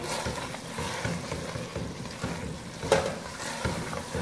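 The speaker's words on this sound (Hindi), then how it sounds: "अब हम मीडियम फ्लेम पर कीमे को भूनेंगे" Minced meat (keema) frying on a medium flame with some gravy, a soft continuous sizzle with light stirring scrapes and a small pop partway through.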